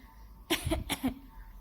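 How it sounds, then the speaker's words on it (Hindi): Two quick, close coughs break a quiet moment, short and rough, with no talking around them. "अब खांसी की आवाज़ आ रही है भाई"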